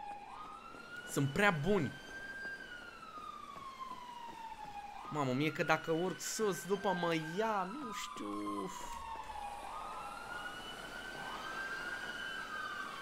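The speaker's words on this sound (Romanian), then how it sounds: "voi auzi sirenele alea, mă?" Wailing police sirens from the video game GTA 5 on a FiveM roleplay server rise and fall steadily, fairly loud but slightly distant, running under bursts of excited talk.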